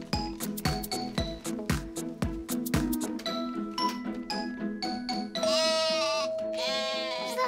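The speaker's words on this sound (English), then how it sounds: "It's our new doorbell. It sounds like a sheep." A bleating, sheep-like electronic doorbell chime rings out in several bursts, followed by a sustained buzzy tone, loud and close with no voices.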